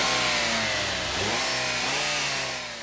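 Nissan Sentra with a 2-liter engine accelerating, a loud, close revving drone that climbs in pitch, dips and rises again, then fades slightly at the end.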